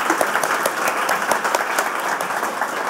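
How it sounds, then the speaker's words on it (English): Steady, full applause from a large conference audience after a talk, dense clapping throughout with no voices. "So let's give one big last final round of applause to Kate Gray."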